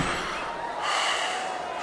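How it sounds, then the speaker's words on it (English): A sports video game in first-person mode carries a player's heavy breathing: a short, close, airy inhale and exhale, like a gasp or snort, with no commentary. "you could turn down the commentary volume and just hear breathing."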